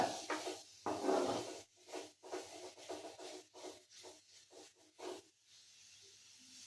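A spoon stirs star gooseberry and green chili pickle in a pan, giving a quiet series of rhythmic scraping strokes, about a dozen in steady succession, before settling into a faint background hiss.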